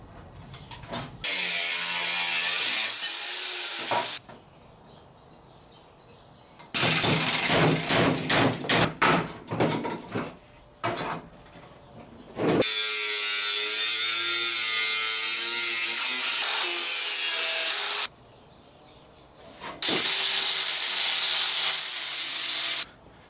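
A power tool cuts through the rusted front fender sheet metal of a 1960-66 Chevy truck in several loud bursts, harsh grinding and rattling at close range, separated by short quiet pauses.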